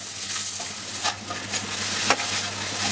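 Spice batter of ground chili, turmeric and coconut milk frying in hot oil in a pan, a loud continuous close sizzle broken by a few sharp scrapes of stirring, no voices.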